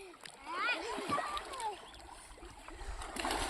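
Children dive and splash in river water while celebrating Dhuleti, with quick splashes and sloshing close by under excited children's voices and shouting.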